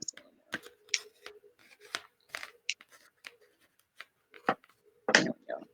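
Scissors snip and trim craft material for a handmade dog-themed gift, giving several short, crisp cuts with quiet gaps and a louder snip near the end.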